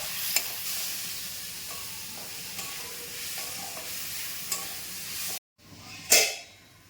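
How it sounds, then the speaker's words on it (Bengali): Mung dal fries in hot oil, giving a steady, moderately quiet hiss with occasional faint stirring ticks. Near the end the sound cuts out briefly, then a sharp, loud sizzle bursts up and fades. "মুগ ডালটাকে একটু ভাজা ভাজা করে নিতে হবে তেলের মধ্যেই অন্তত তিন চার মিনিট"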